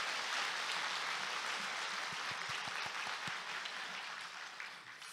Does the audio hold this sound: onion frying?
no